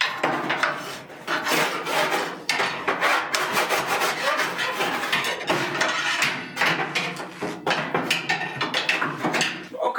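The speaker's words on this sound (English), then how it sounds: "I want to try and get in there as well and scrape that down." A metal tool scrapes soot from inside a wood cook stove in loud, close, rapid rasping strokes, continuous with short pauses, no voices.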